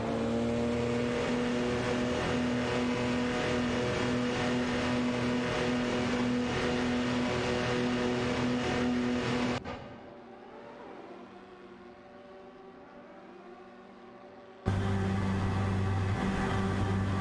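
Race car engines in a racing video game, including a Sauber C9 and a Mercedes-Benz, droning in steady loud sustained tones, cutting to a quieter muffled stretch before the full engine roar returns.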